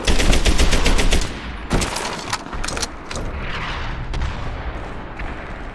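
Rapid automatic gunfire from the World War II shooter Medal of Honor: Airborne, with dense bursts of machine-gun rounds up close at the start, then scattered sharper shots and sporadic fire continuing over a steady battle din.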